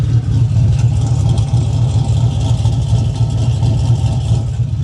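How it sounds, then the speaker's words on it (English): A Chevy Silverado pickup's 6.0 V8 engine idles with a deep rumble and throaty exhaust burble, steady and close, with no one speaking. "Let me see if I can get you some exhaust clips."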